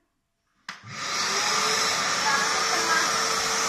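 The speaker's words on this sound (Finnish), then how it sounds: "Niin nyt mä käynnistän tän imurin." Nilfisk Multi 30 wet and dry vacuum cleaner switching on with an abrupt start, then settling into a steady, loud, hissing motor roar close by, with a brief voice just before it starts.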